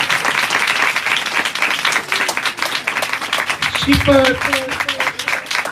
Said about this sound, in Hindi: जोरदार तालियां बजाकर खुदा के नाम को मुबारक हो।